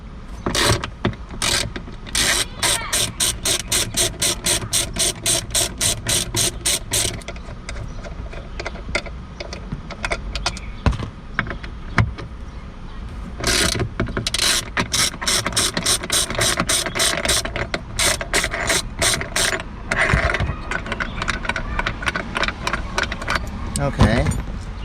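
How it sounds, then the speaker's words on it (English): A ratchet fitted with a T45 bit unscrews the tailgate latch on a Tesla Model 3, with rapid bursts of close, crisp pawl clicking separated by short pauses while a person talks. "So now let's unscrew this."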